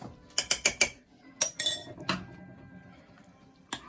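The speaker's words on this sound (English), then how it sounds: "Back into the sauce. Give it a nice stir." A spoon stirs shredded beef into chilli con carne sauce in a pot, making a run of sharp clinks and scrapes against the metal, close and fairly loud, then thinning to quieter stirring.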